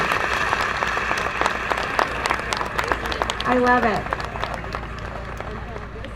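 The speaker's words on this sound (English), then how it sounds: "Give yourselves a big round of applause." A crowd at an ALS charity walk applauds and cheers outdoors, steady clapping with sharp individual claps throughout, while voices talk and exclaim over it and a brief rising whoop cuts through midway.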